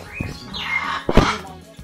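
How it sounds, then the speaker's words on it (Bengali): Macaws call nearby in two brief, harsh squawks, the second louder, with quiet rustling between them. "গায়ে বসে পড়ছে পাখি।"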